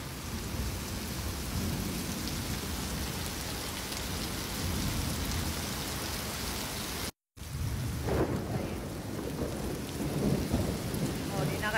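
Heavy rain pouring steadily on surfaces during a record downpour, with rolling thunder underneath, loud and continuous apart from a brief cut, then the storm resumes with rumbles.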